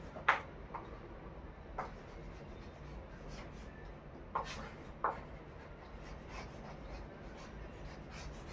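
Chalk or marker scratching across a classroom board, soft intermittent strokes and taps with occasional sharper clicks, quiet and close, with no talking.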